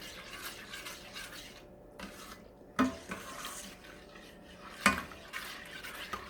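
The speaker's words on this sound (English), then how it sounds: "And then we're just going to stir it up and let it melt." Homemade laundry soap melting in a pan on medium to medium-high heat, stirred with a soft, steady scraping and light sizzle, broken by two sharp clinks of the spoon striking the pan.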